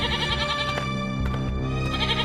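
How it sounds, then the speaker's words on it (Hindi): A goat tied up inside a hut bleats loudly and insistently in a drawn-out, wavering cry, close to the listener, with a short break midway before calling again. "उसकी बकरी उसकी झोपड़ी में ही बंधी होती है और काफी चिल्ला रही होती है"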